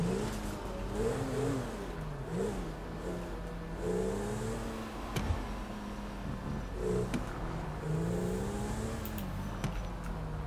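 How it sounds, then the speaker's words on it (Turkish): A powerful modified car engine in Grand Theft Auto V, the standard car of the character Michael, drones steadily with rising and falling revs as it drives away, audible alone throughout. "Motorun sesi falan çok daha iyi geliyor. Çok daha güçlü bir motoru var sanırım."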